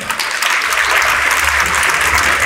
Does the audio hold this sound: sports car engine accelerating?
no